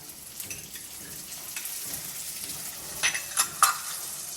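Cubed onion and capsicum frying lightly in a pan, a soft steady sizzle with a few sharper crackles and pops near the end, heard close and alone.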